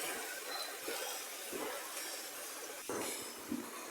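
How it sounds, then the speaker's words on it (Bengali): Chicken pieces and spices frying in a pan, a faint steady sizzling hiss with a few soft clinks and stirring scrapes, close and quiet with no talking. "মুরগির মাংসগুলো এবং মশলাগুলো ভালোভাবে মিক্স করে আমি আর একটু ব্রাউন কালার করে ভেজে নিব"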